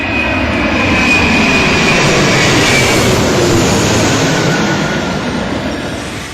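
The Stratolaunch Sky King, the world's largest aircraft, taking off on its first flight, a loud, steady, broad engine roar that holds throughout and fades slightly at the end.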